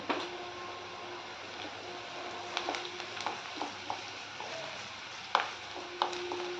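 Chopped onions frying with a pinch of salt in a pan while making gokarakaya garlic curry, a steady close sizzle with scattered louder crackles and pops throughout.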